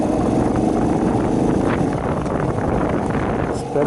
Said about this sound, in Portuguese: Espero que o vento não atrapalhe o vídeo